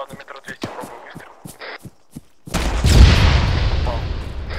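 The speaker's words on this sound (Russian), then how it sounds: "метров 200 пробую выстрел" In the video game Arma 3, a rifle is fired at a target about 200 metres away. After a string of quiet clicks and taps, one heavy shot booms close and loud and rolls out into a long echoing tail, with voices talking over it.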